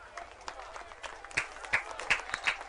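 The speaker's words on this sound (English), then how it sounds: "Crowd giving him a little hand here." A crowd at a Steamboat Sailors high school football game applauds a player with scattered, moderately distant claps that build toward the end, with faint talk mixed in.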